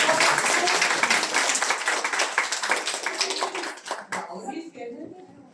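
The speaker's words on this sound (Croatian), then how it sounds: "Bravo, aplauz." A crowd claps and applauds at an eco-themed gathering, the clapping dense and lively for about four seconds before thinning out into scattered claps and murmuring.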